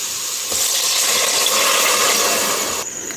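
Water pours into a cooking pot of rice for kootanchoru as a steady, loud splashing gush that fills the whole stretch and cuts off abruptly near the end.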